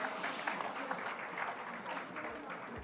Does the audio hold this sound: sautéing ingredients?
no